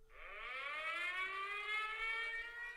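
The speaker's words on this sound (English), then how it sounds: "when you hear that siren" A civil defense style siren winds up and holds a loud, steady rising wail, sounding alone and continuous with no talk over it.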